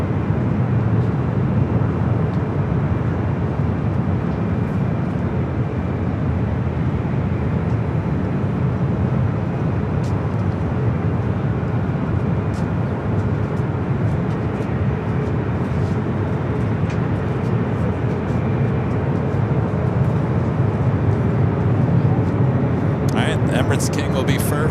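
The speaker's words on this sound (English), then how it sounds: "Lufthansa Flight 452, A350, about to touch down." A Lufthansa A350 airliner on its final approach into LAX from Munich, about to touch down, makes a steady, broad jet roar that holds evenly throughout at a moderate distance.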